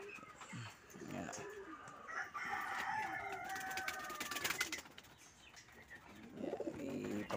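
Racing pigeons in a breeder cage coo and flutter nearby, with a rooster crowing in the background and someone talking over the birds.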